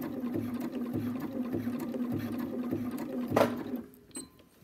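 A sewing machine stitches paragliding line in reverse on a sewing jig, running in a fast, even, repetitive chatter before a sharp clack and then stopping.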